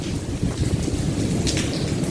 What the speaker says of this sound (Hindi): ये ओले की आवाज़ है जो ओले पड़ रहे हैं।